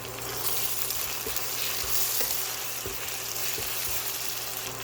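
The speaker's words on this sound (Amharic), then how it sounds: "እንዲህ ሽንኩርቱ ጥብስ እያለልኝ እያለ አብሮ ካሮቱ ጥብስ እንዲል ጨምራለሁ።" Onions fry in a pan with a dense, even sizzle close by, punctuated by a few soft stirring taps, steady throughout with no voices.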